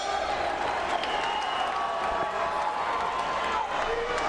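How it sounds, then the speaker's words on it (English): Arena crowd roaring and cheering before a Strikeforce welterweight championship MMA fight, a steady dense wash of noise with scattered whoops and some clapping, with a faint voice present under it. "Listen to this crowd."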